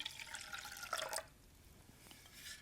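A cup of cold water is poured into a Jello mixture, a brief splashing trickle for about a second that then fades to faint dripping.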